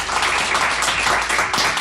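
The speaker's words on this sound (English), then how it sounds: "Round of applause for Jake." A studio audience breaks into sustained, dense applause and clapping as new cast member Jake Gill is welcomed out, loud and continuous throughout.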